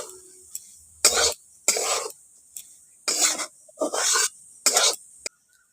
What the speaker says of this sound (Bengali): ভেজে রাখা বরবটিগুলো দিয়ে দিচ্ছি। বরবটিগুলো দিয়ে ভালো করে মিশিয়ে